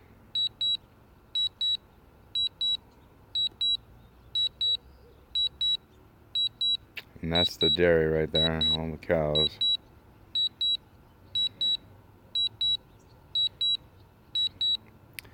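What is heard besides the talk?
DJI Mavic drone beeping while returning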